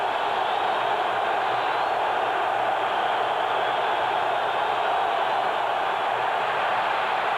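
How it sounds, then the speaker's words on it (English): Steady, dense roar of a football stadium crowd at a Colts at Browns playoff game, swelling loud and continuous without letup as the noise builds near the goal line. "The crowd starts up."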